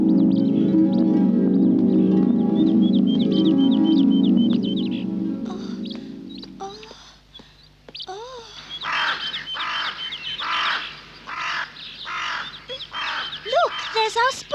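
Several crows caw in a spoken-story setting, repeated harsh calls in bursts that grow frequent and loud over the second half, overlapping one another after a stretch of talk and music.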